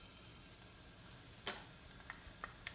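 Two large minced garlic cloves sizzle in about two tablespoons of hot olive oil in a pot, a quiet steady frying hiss with a few faint scraping clicks of stirring.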